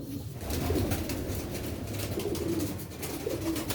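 Pigeons on a rooftop in Sialkot coo steadily at close range, a soft continuous murmur of low throaty calls with faint background ambience and no talking.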